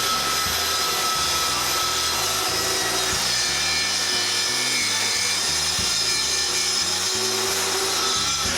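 A wooden back panel for a closed bookcase being cut with a power saw, a steady rasping drone with a rhythmic low pulsing throughout, no voices.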